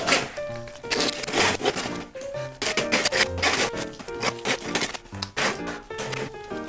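A deba knife hacks and grinds through the joints of a giant crocodile, producing loud, rough crunching and scraping strokes that repeat close up, with dense cracking textures throughout.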